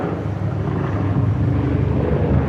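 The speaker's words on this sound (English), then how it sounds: "I hear a helicopter." Helicopter passing overhead near Dallas Love Field, a steady loud rotor and engine roar that holds constant throughout with no talk.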